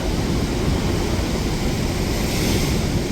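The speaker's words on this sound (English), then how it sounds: "Nothing like standing here watching waves." Big ocean waves break and surge on a Tenerife shore as the tide comes in, a loud, continuous roar of surf with wind buffeting the microphone and no talking.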